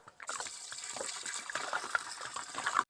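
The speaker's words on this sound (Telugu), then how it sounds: "ఇప్పుడు నీళ్ళు పోసుకుందాం" Water is poured into a cooking pot for Rayalaseema-style chicken pulusu, a soft splashing, trickling flow running steadily for a few seconds, close and fairly quiet.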